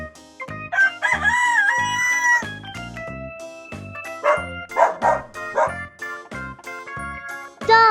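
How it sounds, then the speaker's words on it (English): A rooster crows loudly and up close in a children's farm animals lesson, several drawn-out, wavering calls over a few seconds. "Rooster. R-O-O-S-T-E-R."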